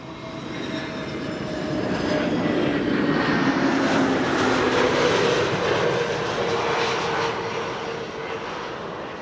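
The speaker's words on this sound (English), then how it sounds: "Here's another Transavia A321neo" A Transavia Airbus A321neo jet roars steadily at an airport, the broadband engine noise swelling loud and continuous before easing slightly, with no voices.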